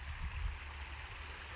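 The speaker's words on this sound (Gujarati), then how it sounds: "પાણી વાળીએ." Irrigation water runs steadily through a groundnut field, a constant low rushing flow with a brief stronger surge near the start, with no voices.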